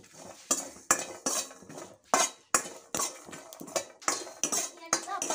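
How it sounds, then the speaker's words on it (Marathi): A metal spoon scrapes and clinks rhythmically against a pan as spices, coconut and cumin dry-roast, each stirring stroke sharp and close, with no one speaking. "तर आता आपण हे छान परतून घेऊया,"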